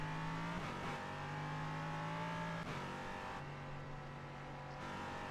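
An LMP3 prototype race car engine at Barber Motorsport Park in a racing game drones at high revs, with pitch dropping and rising through gear shifts and brief lifts, steady and fairly quiet.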